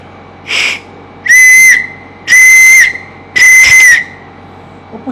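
A brief faint toot, then three loud, shrill whistle blasts blown through a small conch shell, each held about a second, blown up close with short pauses between.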